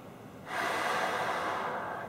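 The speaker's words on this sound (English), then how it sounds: "take a few easy breaths on the tube" Steady breaths drawn through a breathing-device tube used as a trombone warm-up, quiet at first and then a sustained airy rush of air that continues without a break until the end.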